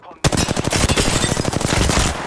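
Rapid automatic gunfire from the battle royale game Apex Legends during a ranked match, a dense burst of shots in quick succession, loud and close, running nearly continuously after a brief quiet start.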